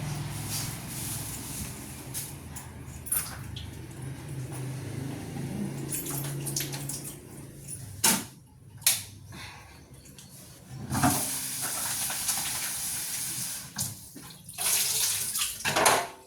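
Running tap water splashes and hisses while something is rinsed and washed, with uneven gushes and sharper spatters near the end, close by and without talk.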